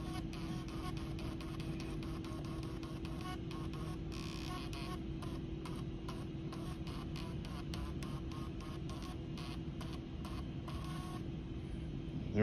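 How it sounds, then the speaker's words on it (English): Handheld battery tester's printer prints a receipt, a faint rapid train of short clicking ticks over a steady electrical hum. "that gives us our battery receipt printout right there"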